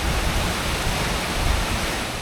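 A river rushing near the Salto Princesa waterfall, a loud, dense and steady wash of water with no breaks and no voices.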